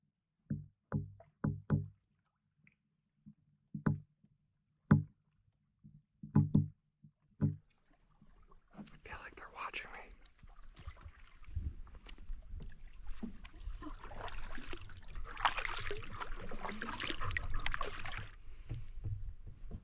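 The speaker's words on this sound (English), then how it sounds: "it's nice to get up here and just have a relaxing paddle and not a fight against headwind" Paddling a canoe on Noganosh Lake in a backcountry park: about a dozen separate, sharp paddle strokes and knocks come close by with quiet between them. Steady wind noise then swells and buries the strokes.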